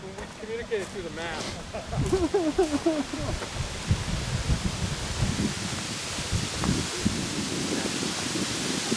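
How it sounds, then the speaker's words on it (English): Steady wind roars and buffets the microphone outdoors in the woods during a girls' cross-country race, with a voice speaking briefly at the start before the gusts take over. "It's pretty windy here today"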